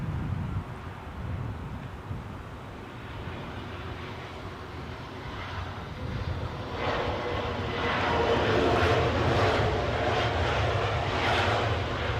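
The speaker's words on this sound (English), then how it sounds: "Let's get this Hanover flight, courtesy of British Airways" A British Airways airliner on the Hanover flight at London Heathrow gives a steady, distant engine roar mixed with wind buffeting the microphone, swelling louder and rougher toward the end as it passes.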